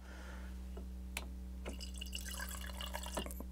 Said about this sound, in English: I haven't poured this at all, so let's see what happens.